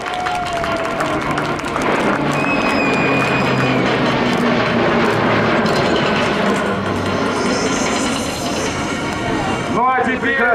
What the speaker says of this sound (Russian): Самолет «Легенда» слева от вас.